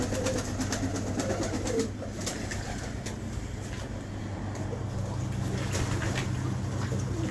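Pigeons kept by a pigeon fancier coo in soft, low, repeated calls under a steady background hum, with faint intermittent clicks and rustles throughout.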